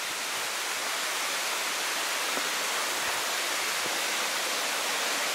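A creek near the Monte Arsiccio mine in Italy flows with a steady, broad rushing wash, constant and fairly close, with no voices.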